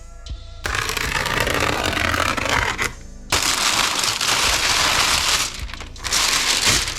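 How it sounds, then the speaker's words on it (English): Someone opens the cardboard box of a CYMA CM350 airsoft shotgun, with loud close crinkling, rustling and tearing in long bursts broken by brief pauses. "Now we just have to crack it open."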